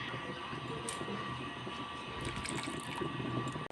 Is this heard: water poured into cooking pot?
yes